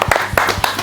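Hands clap in a television studio during a Hindi-language morning show, a few loose, closely spaced claps heard nearby for under a second.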